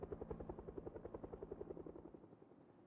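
Helicopter flying over during the chopper event in the video game Project Zomboid, a rapid, steady rotor thudding that is faint and distant and fades slightly toward the end.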